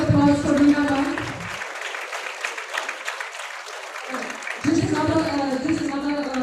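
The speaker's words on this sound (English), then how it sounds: "Can we have a huge round of applause for Veena ma'am?" An audience in a meeting hall breaks into a few seconds of dense clapping, with people talking just before and after the applause.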